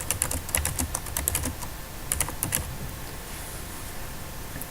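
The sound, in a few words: typing text on computer keyboard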